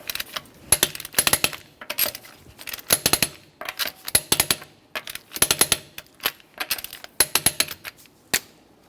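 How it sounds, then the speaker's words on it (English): A torque wrench tightens nuts on a 2011-2020 Toyota Sienna in a crisscross pattern during a front sway bar link job. Close, crisp bursts of rapid ratcheting clicks repeat in short sets with brief pauses between them. "we'll be torquing these to 76 in a crisscross manner"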